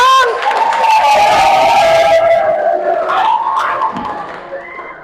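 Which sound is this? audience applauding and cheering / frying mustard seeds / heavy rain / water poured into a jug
audience applauding and cheering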